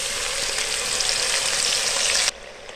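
Onion paste fries with spices in a pan, making a dense, close sizzle of hot oil that holds steady and then cuts off sharply near the end, leaving a quieter background hiss. No one speaks.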